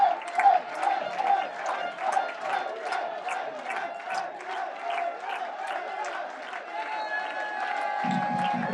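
Crowd applauding and cheering at an amateur Sicilian football play-off as Accademia Trapani celebrates on the pitch, rhythmic clapping and distant shouts across the whole stretch, with a commentator's voice over it.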